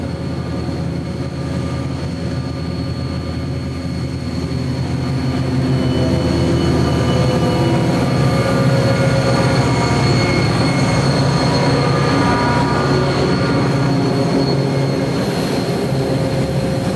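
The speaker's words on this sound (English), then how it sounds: "Led by CSX 8164, a WEPX train was caught by the camera at milepost W15, just south of Buzz." A WEPX freight train led by CSX locomotive 8164 passes at milepost W15 on the Monongahela Railway in 1990, a loud, sustained engine drone and rolling rumble with tonal whine that swells midway and holds steady.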